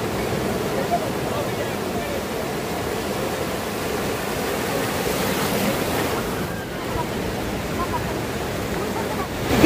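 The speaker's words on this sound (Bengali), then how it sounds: "আমি এখন রয়েছি নিউ দীঘা সি বিচে, আর সমুদ্রের ঢেউগুলো কিন্তু এখানকার খুব সুন্দর।" Sea waves rolling onto New Digha beach, a broad continuous wash of surf with wind buffeting the microphone, loud and close throughout.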